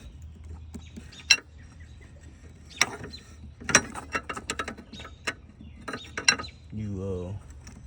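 A ratchet screws down the intake manifold on a 2007 Ford Taurus during an intake gasket replacement, giving scattered close clicks and metallic ticks with a short grinding creak near the end.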